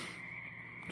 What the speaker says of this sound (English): Thought you might want to hear the frogs.